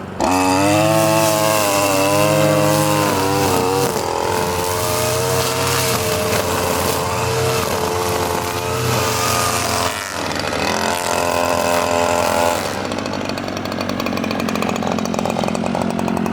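A gas string trimmer fitted with a Darwin's Grip Pro handle runs loud and close, its engine revving up and settling into a steady high whine that holds for the whole stretch, with no talking.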